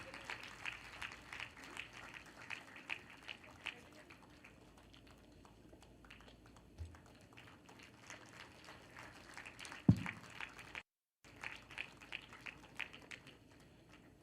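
Audience applause fills an auditorium at an annual science awards function, a steady wash of many hands clapping at moderate distance with a brief dropout near the end.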